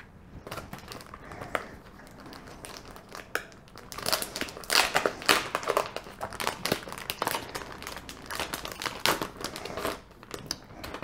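Plastic packaging for a crafting die-cutting machine is unwrapped, giving dense, close crinkling and crackling that grows louder in the middle and continues in irregular bursts, with no talk.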